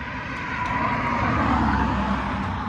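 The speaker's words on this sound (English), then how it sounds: "The only real noise is whenever a car passes by." A car passing by on a quiet night street, a steady broad whoosh that swells slightly toward the middle and eases off, with no voices or other noises.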